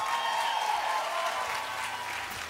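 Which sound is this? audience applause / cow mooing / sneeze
audience applause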